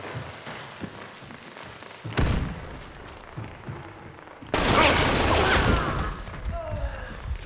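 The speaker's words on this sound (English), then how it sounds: "somebody's shooting us" Gunfire in a first-person shooter game, a short burst of shots followed by a louder crackling volley, moderately near, with faint player voices in the background.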